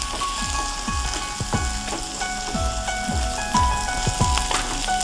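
Vegetable stuffing with curry leaves fries steadily in a pan, a continuous sizzle with repeated scraping strokes from a spatula, close and without talk.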